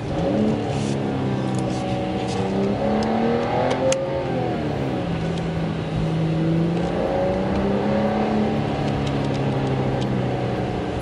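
A Mercedes CLS 53 AMG driven in Sport Plus mode, engine note climbing and falling through revs as the car accelerates and shifts, a steady loud cabin drone with rising and falling harmonic sweeps throughout.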